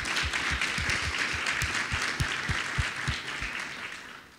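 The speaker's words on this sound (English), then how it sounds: "A round of applause." Audience applause fills a conference hall after a speech on Caribbean resilience and sustainability, a steady dense wash of clapping with a few sharper claps standing out, gradually thinning toward the end.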